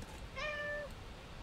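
A cat meows once in the video game Little Inferno, a clear, short, rising-and-falling call heard alone over quiet background noise.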